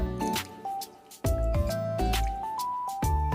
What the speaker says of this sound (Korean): 여기에 넣어서 흔들어 주겠습니다.